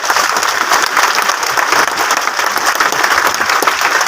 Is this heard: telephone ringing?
no